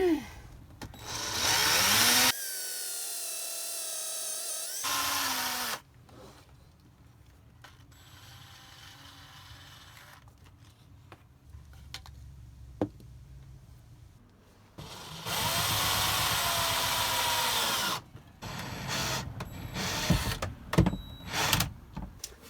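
A power drill drives pocket hole screws into wood for a van-build sink countertop, with several loud whirring bursts of a few seconds each separated by quieter handling noises and clicks.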